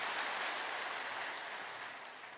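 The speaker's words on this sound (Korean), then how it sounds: "귀한 찬양으로 은혜를 주신 우리 배단위 찬양대에게 뜨거운 감사의 박수 한번 주시기를" Warm church congregation applause for the choir at a Sunday worship service, a dense, steady wash of many hands clapping that slowly fades, with no talk over it.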